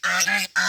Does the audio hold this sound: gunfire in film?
no